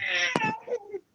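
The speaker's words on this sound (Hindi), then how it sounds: "बच्चा रो रहा है भाई, बच्चा रो रहा है" A baby cries in the background during an online English class, with a loud harmonic wail that breaks into shorter sobbing whimpers over about a second.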